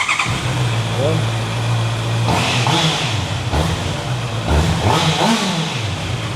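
A big motorcycle with a stock exhaust rumbles close by and revs up in several short bursts that rise and fall over a low idle, with people talking over the engine.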